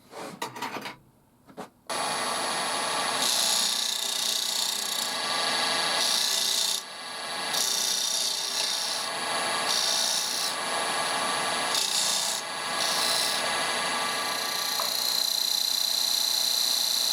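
A small wooden ring box lid is turned down to size on a lathe, giving a steady, close, raspy scraping hiss from the tool on spinning wood that runs continuously with brief dips, after a short handling clatter at the start.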